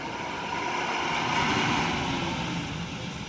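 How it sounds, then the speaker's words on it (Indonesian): Strong wind gusting at a truck terminal in Muara Bungo at night, a steady broadband roar that swells slightly in the middle, with faint vehicle rumble mixed in. "Anginnya kenceng banget lur ya."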